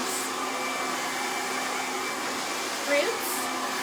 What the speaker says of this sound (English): Make sure you're smoothing the hair before you hit it with the dryer.